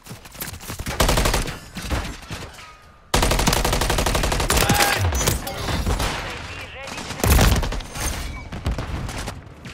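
Call of Duty Modern Warfare 3 multiplayer on the Rust map: loud, close automatic gunfire comes in long rapid bursts with one brief pause, plus a few sharper bangs, and voices are heard over it.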